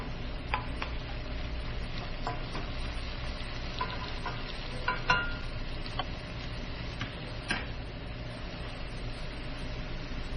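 Chicken chow mein, Cantonese style with golden-crisp noodles, stir-fried in a wok: a steady low sizzle and frying hiss with occasional clinks and scrapes of the utensil against the pan, continuous and fairly quiet, with no talking.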